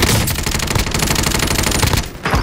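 Rapid, continuous automatic gunfire in the Call of Duty Rebirth Island video game, loud and close, with a brief pause near the end before more shots.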